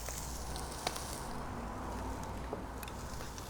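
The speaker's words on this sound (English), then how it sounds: "we're gonna reheat our brisket slices here, where these are beef tallow injected brisket slices" Beef tallow injected brisket slices sear in a hot pan, giving a steady, close crackling sizzle that holds throughout with a couple of sharper pops.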